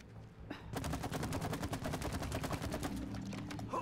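Rapid automatic gunfire from the video game It Takes Two, a dense burst of shots rattling nonstop for several seconds after a brief lead-in, loud and close with no talk.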